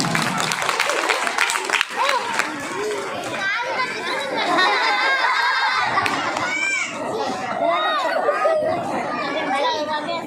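An audience at a mimicry artist's performance cheers and claps, with lively crowd noise, children shouting and excited chatter filling the space throughout, voices prominent over scattered clapping.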